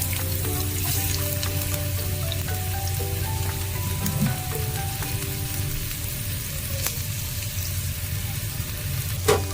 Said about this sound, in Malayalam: എണ്ണ ചൂടായിട്ട് വന്നിട്ടുണ്ട്. അതിലോട്ട് നമുക്ക് സവാളയും ഇഞ്ചിയും വെളുത്തുള്ളിയും ഇട്ട് കൊടുക്കാം